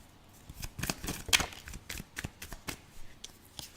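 Playing cards shuffled in a riffle at a psychic development café session, a run of crisp fluttering riffles and taps close by, alone with no talk.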